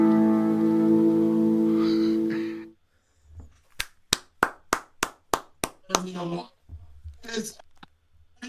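Brief applause on a Zoom business call follows a guitar performance: a short run of about nine distinct, evenly spaced hand claps, close and crisp, with talk just after.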